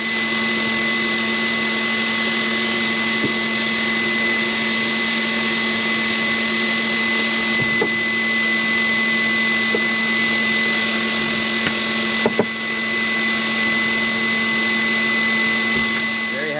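A Chevrolet C5 Corvette Z06 engine idling at close range, with a constant low hum and strong tonal whine, unbroken for the whole stretch with no speech.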